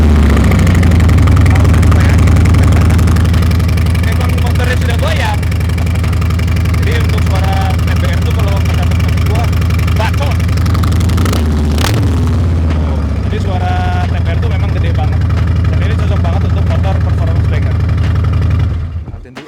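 A Harley-Davidson motorcycle engine with fuel injection and an aftermarket exhaust idles loud and close with a deep, steady low-end thump, briefly revving around the middle before settling and cutting off at the end.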